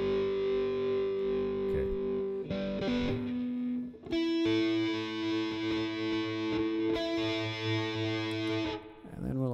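Electric guitar with a distorted, effects-laden tone, mixed with a low pass and room reverb, plays sustained chords and notes loud and close, with a brief spoken word over it.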